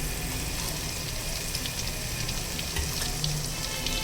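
Ginger garlic paste frying in a pan for Lahori chana, a steady close hiss and crackle running unbroken throughout with no talk.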